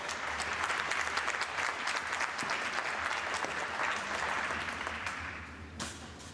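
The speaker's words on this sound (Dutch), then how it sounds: "Geef ze een daverend applaus, dames en heren." A large crowd gives sustained applause to a Dutch drum band at a national championship contest in Barneveld, loud dense clapping throughout that thins and fades near the end.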